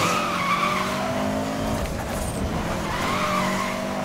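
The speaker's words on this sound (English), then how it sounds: "That turbo sound is really, really cool, actually." A car in the 2012 Need for Speed Most Wanted game runs with a whistling turbo, its tires skidding and squealing through a turn, loud and close over steady engine roar.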